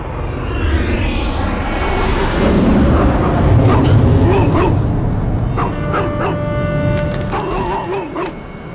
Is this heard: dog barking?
yes